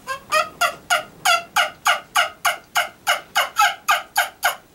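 A turkey call imitating a turkey produces a rapid, steady series of about fifteen loud gobbling yelps, close and alone with no talk.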